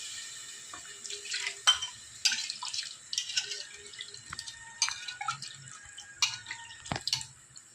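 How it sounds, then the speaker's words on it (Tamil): Water is poured into a mixer jar to rinse it in a home kitchen while fish curry is being made. Close, irregular splashes and drips come in uneven bursts, with no talking. "இப்போ நமக்கு மிக்ஸி கழுவுன்னு அந்த தண்ணியை ஊற்றிக்கிறேங்க."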